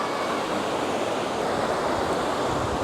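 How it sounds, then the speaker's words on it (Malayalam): The Nanshi River at Wulai, Taiwan, flows low but audible near the waterfalls, giving a steady, even rush of water heard close and unbroken throughout, with no voices. "നാൻഷി റിവറിലെ നല്ല ശബ്ദം ഇവിടെ നമുക്ക് കേൾക്കാൻ സാധിക്കും, നന്നായിട്ട് വെള്ളം ഒഴുകുന്നതിൻ്റെ"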